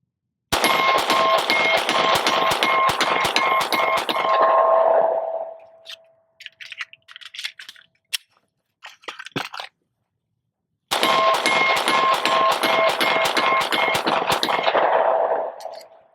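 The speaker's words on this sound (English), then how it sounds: "we're going to start the 43x burn down" A Glock 43x pistol fires S&B 115 grain rounds in a fast, sustained string of sharp, loud shots with a metallic ring. The shooting stops while magazines clatter and click during a reload, then another rapid string of shots follows.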